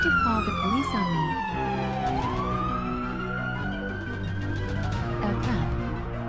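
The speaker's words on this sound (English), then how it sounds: "There are so many police cars chasing me." Police car sirens from a video game wail and sweep up and down in overlapping tones, steady and moderately loud, with game background sounds mixed in.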